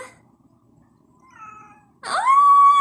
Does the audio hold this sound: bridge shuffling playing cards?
no